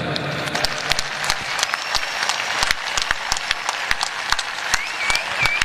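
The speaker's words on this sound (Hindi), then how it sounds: "यादव साहब ने 18 गोलियां खाई, उसके लिए जितनी तालियां बजाएं बजा लें।" Audience applause at a ceremony honouring a Kargil war Param Vir Chakra recipient, dense sustained clapping from a large crowd with sharp individual claps standing out throughout.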